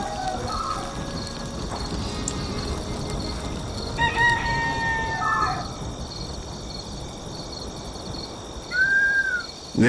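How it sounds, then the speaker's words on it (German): A rooster crows in the video game Black and White 2, several short crowing calls spread across the stretch amid game ambience and soft background music, with no talk over it. "Dieser Hahn weckt mich jeden Tag auf."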